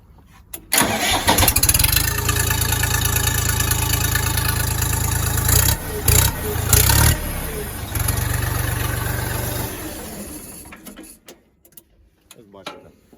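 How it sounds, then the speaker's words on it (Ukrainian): A new, not yet run-in Xingtai tractor engine, model T240 TPKX or T244 THL, cranks and starts, then idles steadily and loudly nearby, with a brief revving burst midway before shutting down at the end. "Давайте послухаємо роботу двигуна"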